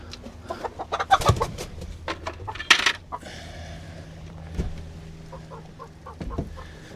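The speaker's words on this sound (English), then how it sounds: "Hello, Rooster." Rooster on a farm during egg collection, sounding a few sharp clucks and calls amid clinks and rustling in the coop, close by, with no talk.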